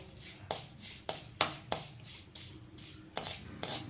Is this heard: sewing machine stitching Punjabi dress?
no